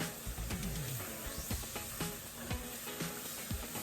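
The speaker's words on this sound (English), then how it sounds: "We're gonna add right now about a half tablespoon of garlic, and that's gonna pop right in there" Minced garlic, about half a tablespoon, dropped into a hot pan for a shrimp and bacon étouffée, giving a steady broadband sizzle with small pops and clicks throughout, close and moderately loud.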